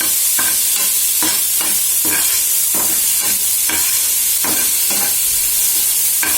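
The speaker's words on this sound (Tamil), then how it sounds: "எல்லாத்தையும் போட்டு வதக்கிட்டு" Onion, tomato, garlic and green chilli sauté in a pan with mustard seeds and curry leaves for mulai keerai kootu. A spatula scrapes and stirs in a repeated rhythm over a constant close sizzle.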